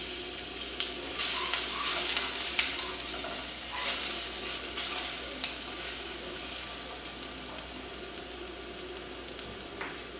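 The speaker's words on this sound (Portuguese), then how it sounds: "Vou deixar o alho dourar." Garlic browning in a hot pan gives a steady close sizzle and crackle, with occasional spatula stirs and scrapes over ten seconds, no voices.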